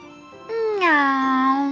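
A voice imitates a cat's meow in a single drawn-out, rising-then-falling call, close and clear, spoken by a character in a Ukrainian bedtime audio fairy tale.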